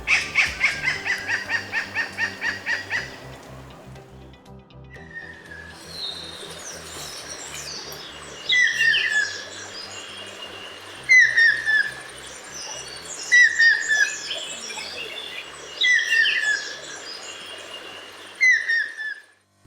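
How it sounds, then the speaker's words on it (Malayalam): Stork-billed kingfisher calling: a fast rattling laugh-like burst of about ten rapid notes, followed by repeated loud whistled calls in spaced bursts, clear and fairly close with no voices. "ചൂളം വിളി പോലെയുള്ള ശബ്ദം പുറപ്പെടുവിക്കുന്ന കാക്കമീൻകൊത്തികൾ സാധാരണയായി ഉച്ചത്തിൽ ചിരിക്കുന്നത് പോലെയുള്ള ശബ്ദവും ഉണ്ടാക്കാറുണ്ട്."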